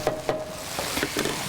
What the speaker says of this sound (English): let's give this a little stir too